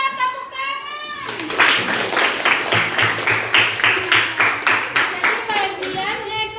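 A classroom of children claps in unison for about five seconds, a steady rhythmic beat of many small hands, with a teacher's voice speaking briefly before and after the applause.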